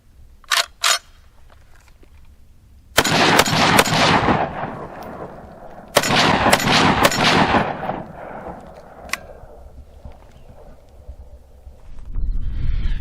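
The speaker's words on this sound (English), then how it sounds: "let's get back to the range and put some rounds through this." A Ruger Mini-14 rifle fitted with a rail and red dot fires at an outdoor range: two sharp shots open, then two loud clusters of rapid shots, each ringing out with a short echoing tail.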